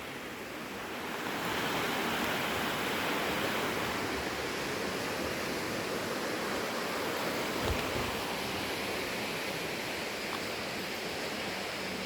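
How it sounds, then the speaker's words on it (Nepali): Water of the Kali river at Devghat in Chitwan, Nepal, a steady broadband rush that swells after a second and holds without talk. "काली नदी"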